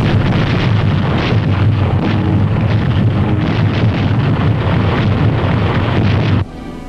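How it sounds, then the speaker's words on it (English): Wartime bombing raid with 300-pound bombs pounding enemy holdouts on Mindanao in the Philippines, heard as a loud, continuous roaring rumble of blasts and engine noise, dense and unbroken, cutting off abruptly near the end. "Twenty-four Yank bombers pound at suicidal enemy holdouts on Mindanao in the Philippines, striking with 300-pounders."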